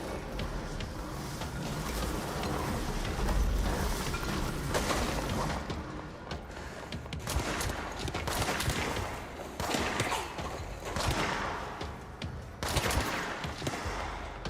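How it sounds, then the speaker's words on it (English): Gunfire in the video game Control crackles in dense, irregular bursts over a constant rumbling backdrop, repeated volleys rising and falling throughout. "I hear gunshots"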